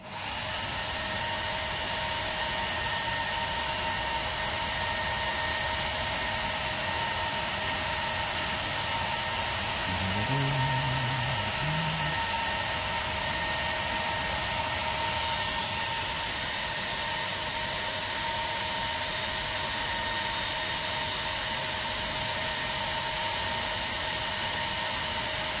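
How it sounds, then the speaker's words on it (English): Steady, loud whir of a hairdryer blowing warm air over wet acrylic paint, a continuous broadband hiss with a motor hum that runs unbroken throughout, with no talking. "I don't want to get to dry it up too much with the hairdryer."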